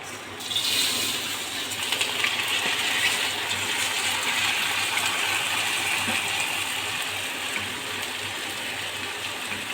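Dry lentils of two kinds and rice tipped together into a cooking pot for chicken and vegetable khichuri, a steady rattling, pattering pour that runs continuously and fairly loud at close range, with no talking.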